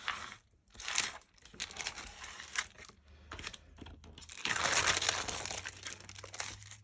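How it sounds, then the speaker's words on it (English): A plastic bag crinkles and crackles in bursts as it is pressed and smoothed over a rose-patterned craft napkin, close up, with irregular rustling pauses and no talking. "put your plastic bag on top to smooth it down so that you are not damaging your napkin"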